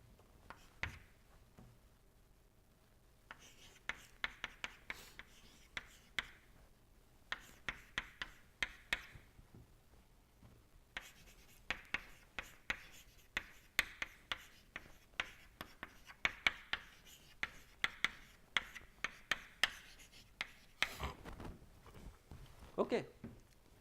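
Chalk or pen tapping and scratching out an equation during a thermodynamics lecture, a quiet, irregular series of short ticks with a lecturer speaking over parts of it.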